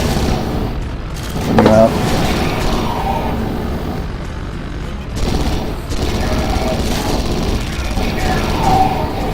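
Enemy gunfire in Red Faction: Guerrilla, soldiers spilling off a truck and opening up, a dense continuous rattle of shots and booms under steady game noise, with a brief voice heard.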